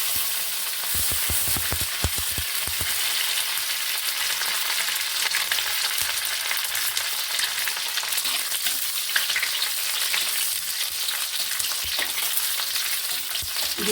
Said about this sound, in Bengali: আচ্ছা, দিয়ে দিচ্ছি দেখুন কাজু কিশমিশ